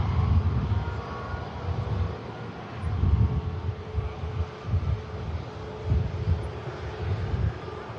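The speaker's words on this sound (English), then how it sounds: "ATR on a short final." An ATR turboprop airliner on short final at Manchester Airport gives a steady, moderately loud engine drone with gusting wind rumble, heard from a distance with no talk.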